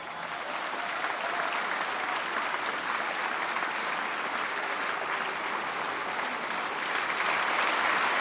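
Crowd cheering and applauding in the Madden 25 football video game, a broad, steady roar that swells slightly toward the end.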